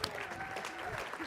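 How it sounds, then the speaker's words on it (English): Audience at a live seminar event clapping in a round of applause, a dense steady patter of many hands held at an even level through the whole moment, with voices mixed in underneath. "round of applause"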